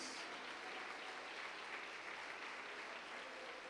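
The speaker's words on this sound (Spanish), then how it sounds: "Damos fuerte esa ofrenda de palmas a nuestro Dios, hermanos y hermanas." A church congregation claps steadily as an offering of praise during a Spanish-language Bible study service, a sustained, fairly soft roar of many hands with no break and no talking.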